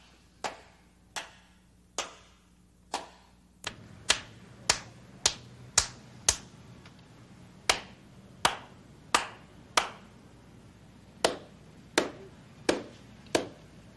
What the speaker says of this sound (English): That is a bass clap.